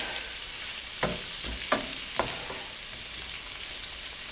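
Sausage, onions and garlic sizzle in a pan with a continuous hiss, broken by three brief scraping stirs near the start, then steady frying alone.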